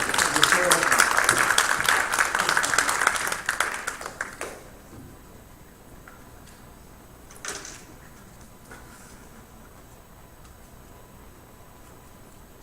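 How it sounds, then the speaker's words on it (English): Church congregation at a Baptist Sunday service breaks into a round of applause, loud and full for about four seconds before it quickly dies away, leaving a quiet room with a faint thump and a bit of distant murmuring. "Give them a round of applause."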